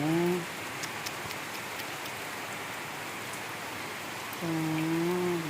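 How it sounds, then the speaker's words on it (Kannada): Steady rain hisses throughout, dense and even, with a low drawn-out call briefly at the start and again near the end. "ಸಿಕ್ಕಾಪಟ್ಟೆ ಮಳೆ ಉಳಿತಾಯಿದೆ ಇದೆ ಎಲ್ಲ ಕಡೆನೂ"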